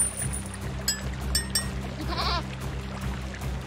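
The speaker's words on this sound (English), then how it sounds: "A goat! Why is the goat blue?" A blue goat in the video game There Is No Game gives a short bleat, quiet and brief, over a steady low background hum.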